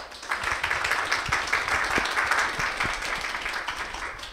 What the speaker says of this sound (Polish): Przywitajmy go klaskami.